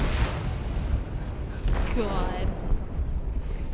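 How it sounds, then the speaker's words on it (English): An explosive detonates in a ship's hold in a video game: a deep, rolling boom and rumble that sustains across the clip while a voice briefly speaks over it. "They detonated an explosive in the hold."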